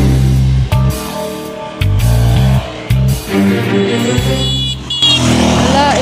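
Motorbikes and cars passing on a Da Nang street, loud close engine drones rising and falling as vehicles go by, a short horn toot near the end, with people talking nearby.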